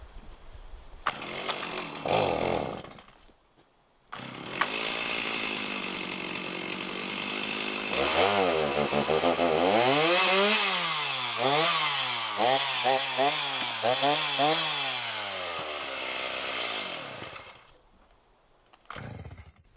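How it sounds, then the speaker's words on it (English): A chainsaw felling a large dead tree revs up and bogs down repeatedly while cutting wood, loud and close, with its engine pitch rising and falling through long stretches of sawing. "This chainsaw really isn't doing me any favors."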